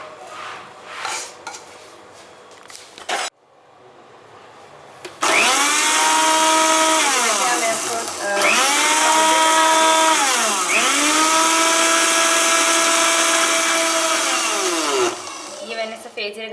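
Electric grinder whirring at high speed as lightly roasted white cumin seeds are ground into powder, a loud steady motor drone with a few pitch dips, starting after brief talk and a short pause.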